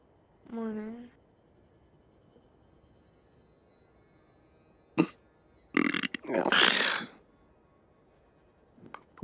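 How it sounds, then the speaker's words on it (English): A single deep, gurgling burp after drinking a potion in VRChat, up front and brief, followed by clicks and scratchy noise bursts. "Potion burp."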